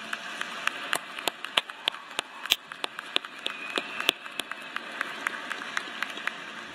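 Graduation audience at Auburn University's spring 2018 commencement applauds, with scattered sharp claps rising over a steady crowd hush, moderately faint and fairly loose rather than thunderous.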